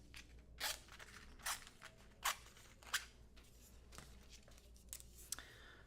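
Scissors trimming a foil sheet for card-making backgrounds, with a handful of separate crisp snips spaced about a second apart, close and fairly quiet, with no voice.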